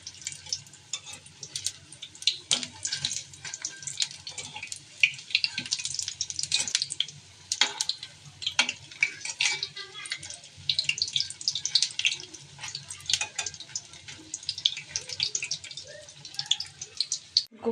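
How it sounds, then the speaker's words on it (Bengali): Beguni, battered eggplant fritters, frying in oil give a steady, close crackle and sizzle with scattered sharper pops throughout, no talking. "আর এদিকে আমি বেগুনিগুলো ভেজে নিচ্ছি।"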